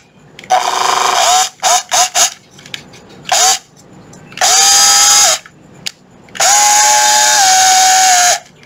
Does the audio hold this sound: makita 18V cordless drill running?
yes